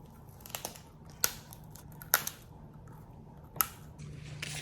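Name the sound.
biting a crunchy crispy beef chip, Carnivore Crisps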